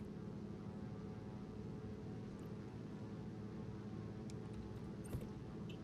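A de Havilland Beaver floatplane's piston engine drones steadily and loudly from inside the cabin as the throttle is worked, a constant low rumble with only a faint brief click near the end and no talk.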